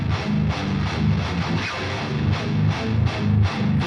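A high-gain, heavily distorted electric guitar tone through a Bogren Digital AmpKnob BDH with the gain fully up, dense chugging riffs played loud and steady with no voice.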